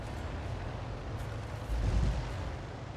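A World of Tanks artillery gun fires and its shell lands, a low rumbling boom swelling midway through a steady dull background of distant battle noise, with no talk.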